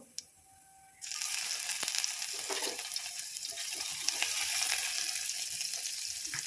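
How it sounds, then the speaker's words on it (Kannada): Crushed garlic and cumin seeds hit hot oil with a sudden, steady crackling sizzle that continues loudly and evenly, close by, with no voices. "ಎಣ್ಣೆ ಕಾದ ನಂತರ ಜೀರಿಗೆ ಹಾಕಬೇಕು. ನಂತರ ಜಜ್ಜಿರೋ ಬೆಳ್ಳುಳ್ಳಿ ಹಾಕಬೇಕು."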